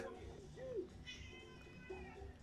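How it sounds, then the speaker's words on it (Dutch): A cat named Milo gives a couple of short rising meows indoors, fairly close, over low background game sound, with a voice speaking around them. "Mijn kat Milo die is even binnengekomen."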